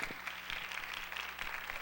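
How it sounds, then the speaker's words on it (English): Faint, distant applause from a community forum audience, a soft continuous patter of clapping heard throughout with no talk over it. "Let's give them a round of applause."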